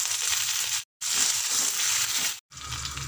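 Ground paste drops into hot oil on low heat with fenugreek seeds, asafoetida and curry leaves for a green raw-mango kadhi, giving a steady close sizzling hiss broken by two short cuts of silence.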